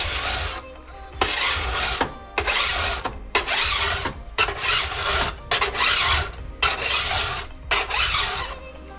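A hand file rasps along a snowboard's steel edge during tuning, in about eight steady back-and-forth strokes with brief pauses between them, close and fairly loud.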